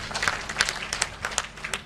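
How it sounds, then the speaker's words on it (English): Audience at an investment summit claps in scattered, uneven bursts, moderately faint and continuous for a couple of seconds. "Let us clap for UBC."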